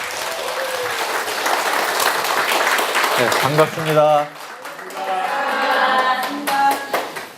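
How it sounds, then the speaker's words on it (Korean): Audience applause in a lecture hall welcoming a Korean medicine institute director before a talk on constitution-based health and slowing aging; steady clapping for about three seconds, then a voice speaks over fading claps. "큰 박수 부탁드리겠습니다"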